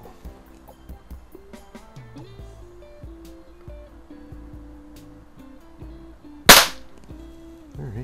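A Daisy model 1140 break-barrel spring air rifle fires a .177 pellet, making a single sharp crack over quiet background tones, with no talking.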